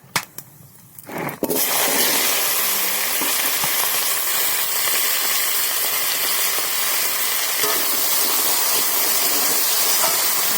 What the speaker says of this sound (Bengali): সব রকম ঘাঁটা মশলা দিয়ে দেবো। এই যে কচু আর আলু,